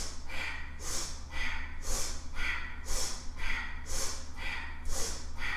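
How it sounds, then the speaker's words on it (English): Rapid rhythmic sniffs in and out through the nose, a fast breath-of-fire breathing exercise during a yoga flow, with about a dozen sharp, evenly spaced bursts close to the microphone. "As fast as you can, little sniffs in and out through the nose."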